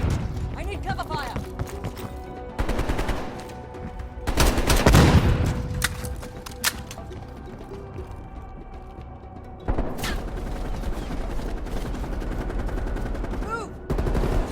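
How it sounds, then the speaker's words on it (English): Bursts of automatic gunfire in the Call of Duty Cold War campaign on PS5, with loud rapid volleys and heavy impacts rising and falling across the scene amid game noise. "I need cover fire."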